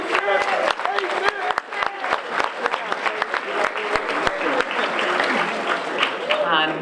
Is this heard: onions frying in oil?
no